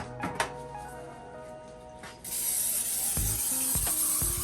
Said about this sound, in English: I'm about to spray it again with my veggie oil.